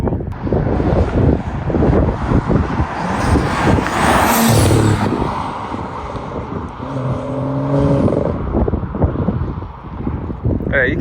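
A BMW N55 engine with a short intake rumbles and burbles on overrun, with popping crackles, heard close under heavy wind buffeting on the microphone.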